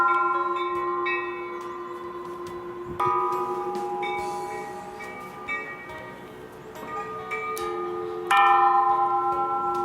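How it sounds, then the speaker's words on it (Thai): Temple bells ring around a giant Luang Pho Khun statue at a Thai temple in Nakhon Ratchasima, with overlapping metallic strikes and long ringing tones that swell at several points. "ต้องเคาะระฆัง รอบองค์หลวงพ่อคูณนะครับ เป็นร้อยใบเลยนะครับ"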